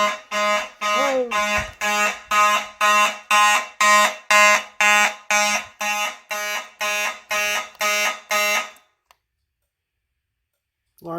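A building fire alarm system under test sounds a loud, repeating electronic tone in steady pulses for about nine seconds, then cuts off into silence; a short voice is heard near the start.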